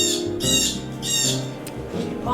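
A blue jay gives three harsh, raspy squawking calls in quick succession, loud and close.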